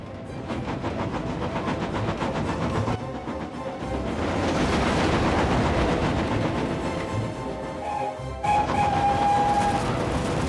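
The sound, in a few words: cartoon train engine speeding along rails with wagons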